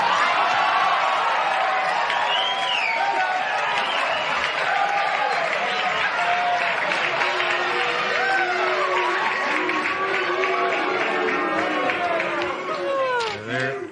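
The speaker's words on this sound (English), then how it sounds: "It's not booing, they're just chanting" A studio audience at a comedy show makes a dense, sustained crowd roar of rhythmic chanting mixed with cheers and some clapping, loud and continuous throughout before easing slightly at the end.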